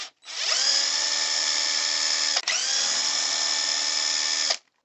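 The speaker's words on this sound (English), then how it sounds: "Then we have a few bolts here that need to come out" A power driver spins out bolts from a Traxxas E-Revo RC truck, giving a steady high whine that runs for about two seconds, dips briefly, then continues for another two seconds before stopping, close and loud with no talk.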